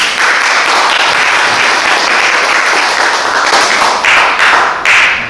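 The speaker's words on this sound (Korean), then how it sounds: "우리 박수로 환영하겠습니다." An audience at an academic public lecture breaks into loud, sustained applause, dense clapping that fills the room evenly from start to finish with a few sharper bursts near the end.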